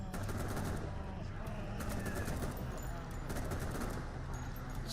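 Rapid gunfire bursts in The Walking Dead NFT video game, repeated crackling volleys through the clip over a dense game soundscape.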